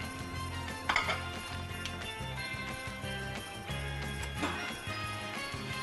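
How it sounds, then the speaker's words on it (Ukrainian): Cutlery clinks and scrapes against dishes as potato salad is spooned onto a plate, a few light taps over steady background music. "Ну а тепер викладаємо на тарілку."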